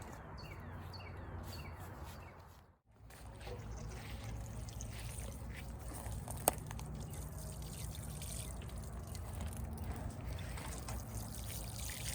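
Water trickles and pours onto newly planted pepper plants in a home garden, a steady splashing stream that breaks off briefly, then resumes close by with faint birdsong in the background.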